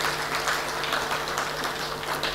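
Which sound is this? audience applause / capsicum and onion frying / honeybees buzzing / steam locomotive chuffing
audience applause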